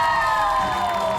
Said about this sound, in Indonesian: Di mana suara supporternya?